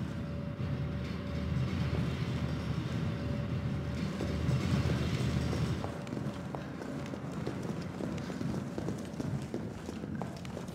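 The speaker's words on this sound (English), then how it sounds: "The subway's about to leave." A subway train departs in the Resident Evil 3 Remake video game, making a steady mechanical rumble with clattering that shifts partway through.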